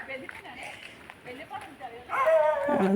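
A dog barks several times along a road toward a relative's house, loud and close in the last second after quieter background noise; no speech is heard.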